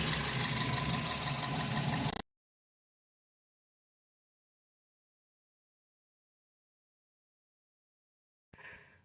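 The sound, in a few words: 2000 Toyota Celica GTS engine idling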